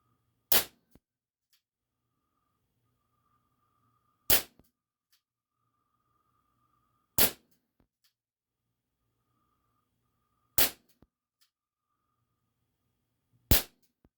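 A Dan Wesson 715 .357 CO2 pellet revolver by ASG, 4.5 mm, fires five sharp, loud single shots spaced a few seconds apart, each a crisp crack with a quick decay, in an otherwise quiet setting.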